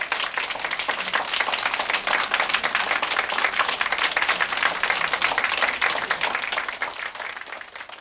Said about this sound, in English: The audience clapped and clapped and shouted for more.